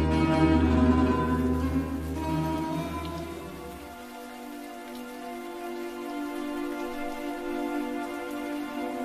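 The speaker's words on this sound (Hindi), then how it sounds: "बारिश हो रही है।" Continuous rain falling, a steady wash of drops with a low rumble underneath that drops away partway through; no voices.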